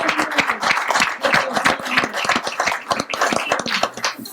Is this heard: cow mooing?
no